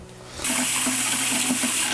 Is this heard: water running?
yes